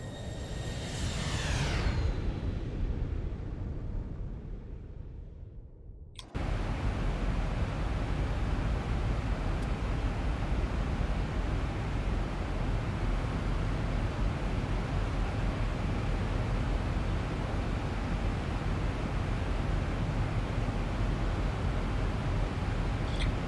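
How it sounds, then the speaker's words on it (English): A jet airliner, the Zibo mod Boeing 737 in the X-Plane flight simulator, makes its default flyby: a loud rising engine roar that sweeps past, cuts off abruptly, then gives way to steady broadband wind-like noise. "This is the default flyby from X-Plane."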